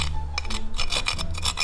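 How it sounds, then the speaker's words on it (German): Cheese is grated by hand against a metal grater for pasta, a close, loud series of rhythmic rasping strokes repeating several times in quick succession. "Nebenbei müssen wir immer weiter den Käse reiben."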